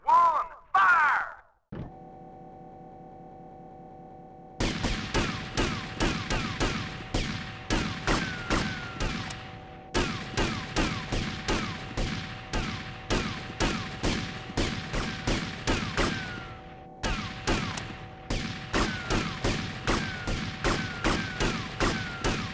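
Firing squad gunfire in GTA: Vice City: after a brief shout, a steady hum starts, then loud, rapid volleys of repeated gunshots ring out in rhythmic bursts with short pauses between them, continuing for nearly twenty seconds.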